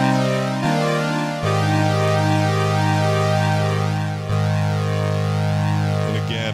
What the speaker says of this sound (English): Here's the phaser on the plugin.